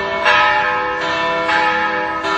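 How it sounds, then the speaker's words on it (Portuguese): Church bells in Belo Horizonte, Brazil, ring for the city's 110th anniversary in steady, overlapping peals, each strike blooming with a long metallic hum that lingers beneath the next. "Toque dos sinos para o aniversário de uma metrópole."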